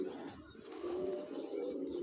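A pigeon coos close by in a soft low repeated call with a slightly wavering tone, fairly quiet and steady, with a brief dip in level before it resumes.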